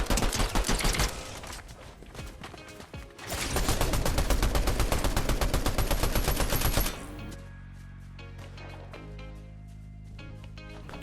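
Rapid bursts of automatic gunfire in a Fortnite zero build solo tournament, dense and loud for about seven seconds, then thinning into scattered individual shots over a quieter background.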